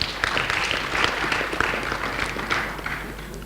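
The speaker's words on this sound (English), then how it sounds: "let's have a round of applause for him" Steady audience applause at a company send-off event in Bonny, dense clapping held at an even level throughout the short stretch.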